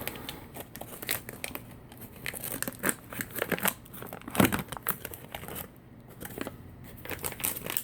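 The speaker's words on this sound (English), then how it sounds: "Well, that open didn't work out too well, but I got enough where I can rip it." A cran raspberry First Strike ration bar wrapper being torn open by hand, with close, irregular bursts of crinkling and ripping plastic over several seconds, no talk.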